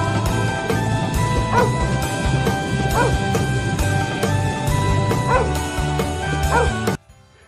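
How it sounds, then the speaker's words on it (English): A dog barks in a children's alphabet phonics song, with repeated bark-like yips over loud, busy music that cuts off abruptly near the end. "D for dog."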